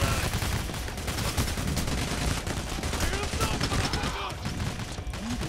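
Dense, continuous gunfire fills a firefight in the video game Payday: The Heist. Rapid automatic shots overlap at a constant loud level throughout.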